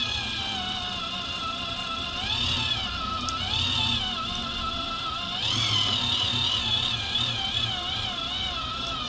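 A small tabletop mini pottery wheel hums with a steady electric whine that swells twice as the wheel is pressed on while centering clay.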